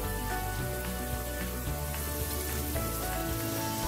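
Yogurt-marinated oxtail pieces, large and chunky, sizzle steadily in a hot pan for an oxtail pepper gravy, a dense continuous crackle with no talk.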